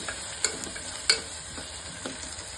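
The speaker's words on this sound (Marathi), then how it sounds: "आता हे वाटलेली मिरची आणि लसूण ती पण टाकून घ्यायची." Ground chili and garlic paste frying in a pan with tomato for vegetable khichadi, a continuous sizzle broken by a few sharp scrapes and taps of a stirring spoon, close and moderately loud, with no talk.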